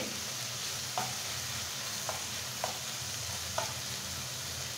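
Hilsa fish roe and shrimp frying in a hot pan, giving a steady close sizzle with a few soft knocks from stirring.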